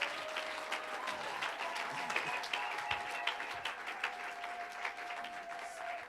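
Church congregation applauding and cheering during a French-language sermon, a steady wash of many hands clapping at moderate loudness throughout, with a faint sustained tone underneath.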